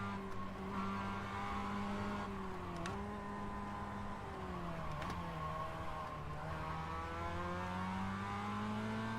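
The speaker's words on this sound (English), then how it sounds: "He's a little bit too aggressive with the downshifts." A race car in iRacing downshifts aggressively, its engine note dropping in sharp steps with brief blips and crackles between gears, the steady loud drone otherwise continuous and close.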